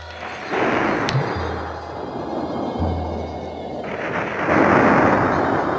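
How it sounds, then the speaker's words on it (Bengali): A deep rolling rumble like a thunderclap swells and fades twice, with low booming thuds underneath and no voices. "হঠাৎ সঙ্গে সঙ্গে একটা বজ্রাঘাতের আওয়াজ"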